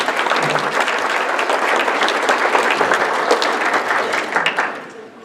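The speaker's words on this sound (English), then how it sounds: "let's give them a round of applause for what they've done tonight" A dinner crowd gives the organizers a full round of applause, dense and sustained for several seconds before tapering off, with some voices mixed in.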